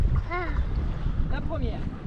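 Wind buffets a microphone on a beach, producing continuous low, rumbling gusts that fluctuate steadily while a person talks over it.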